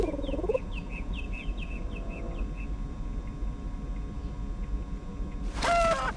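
A bird in the game A Final Unity gives a short series of repeated chirping calls over a steady low mechanical hum, followed by a brief, louder squawk near the end.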